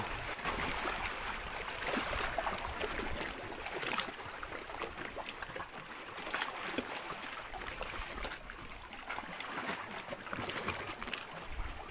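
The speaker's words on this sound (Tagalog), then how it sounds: "Malakas yung alon." Strong sea waves break along a rocky shore at the far northern tip of the Philippines, a loud, steady, broadband roar of churning surf that fills the whole stretch without any voices.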